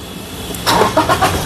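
A 2017 Toyota Innova Crysta 2.4 pulls away in gear, a brief close engine rise with a short burst of mechanical noise and no talk.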